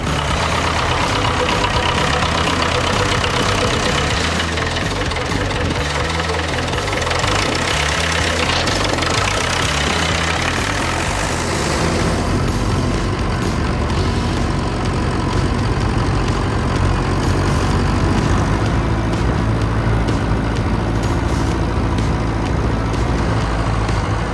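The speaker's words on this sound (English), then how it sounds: "we are going to go back to this muddy bog hole and go straight through it and see if we make it out the other side" Diesel engine of a Routemaster bus driving through a muddy bog, a loud, steady low rumble that runs throughout with no talk, the tone shifting and deepening about halfway through as the load changes.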